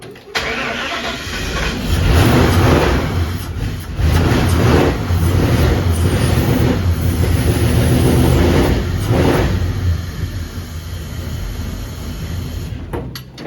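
A 1959 Ford wagon's engine fitted with a budget $200 Temu dual exhaust, revved up from idle: loud, close, throaty rises held for several seconds before settling back down, with no voices over it.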